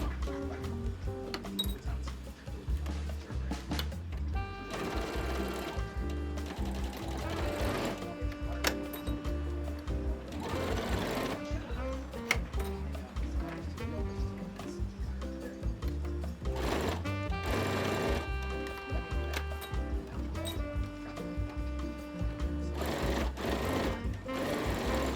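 A sewing machine runs in steady rhythmic bursts while top stitching folded binding on a square-neck cami summer dress, close and fairly quiet, pausing briefly between runs.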